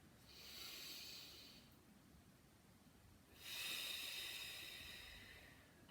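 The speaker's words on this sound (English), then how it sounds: "big inhale, hold, and then slowly exhale" Slow, deep breaths during a guided yoga breathing exercise: a long airy inhale followed by a pause and a longer hissing exhale through the mouth, close and soft with no talking.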